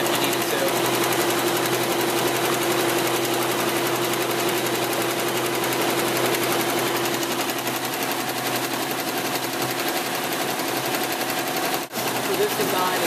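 A commercial embroidery machine in a print shop stitches out a design of about 7,000 stitches, a steady, loud, rapid needle clatter running nonstop with a hum underneath and a brief dip near the end.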